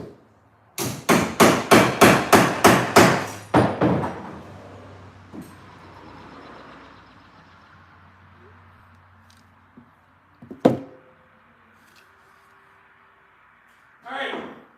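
A hammer taps a forged dagger in a quick run of about eight sharp, ringing metallic strikes, followed by quieter background sounds and a couple of isolated knocks.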